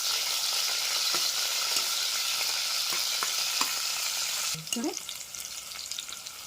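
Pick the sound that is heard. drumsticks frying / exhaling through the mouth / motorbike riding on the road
drumsticks frying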